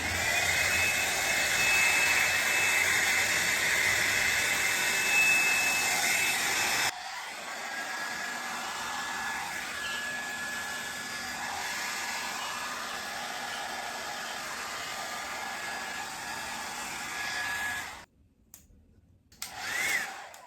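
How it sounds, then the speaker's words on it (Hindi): Havells HC4085 air styler's blower brush drying hair, a steady loud broadband airflow roar that drops to a lower setting partway through, then cuts off near the end with brief handling noise. "तो ये हो गई हमारी ब्लोअर ब्रश रेडी।"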